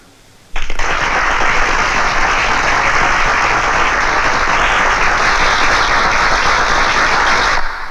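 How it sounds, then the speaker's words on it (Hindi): Loud crowd applause bursts in suddenly and holds at a dense, even level for about seven seconds before cutting off, with no voices over it. "तो ये सब तालियां बजाएंगे"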